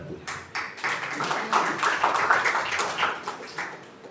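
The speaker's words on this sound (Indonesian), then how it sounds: "Tepuk tangan buat Tuhan." A church congregation claps for God during a sermon, a dense wash of continuous applause that swells and holds for several seconds, with no voices over it.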